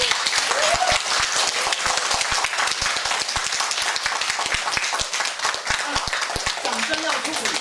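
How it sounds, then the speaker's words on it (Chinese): A lecture audience applauds with continuous, dense clapping throughout, loud and close. A few faint voices come through near the end. "掌声要鼓励。"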